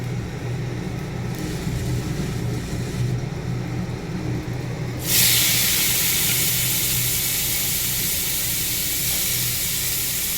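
Cabbage goes into hot oil already seasoned with dried chilli, bay leaf, cumin and finely chopped ginger. A quiet, low bubbling bursts suddenly into a loud, close, steady sizzle that hisses on without letup.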